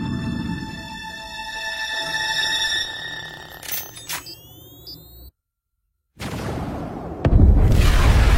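A thermonuclear bomb detonates in a Marvel superhero trailer: layered alarm tones and a rising whine cut to sudden silence, then a loud, roaring blast surges back and swells into a heavy rumble.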